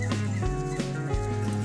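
A rooster on a small farm clucks and calls close by, a few throaty bursts in quick sequence with no talking.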